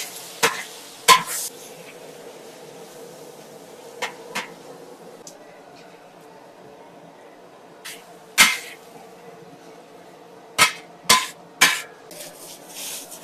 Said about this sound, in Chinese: 青椒炒肉丝，豆芽丝啊，一起。